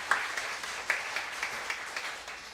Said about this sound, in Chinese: 我们再次热烈掌声。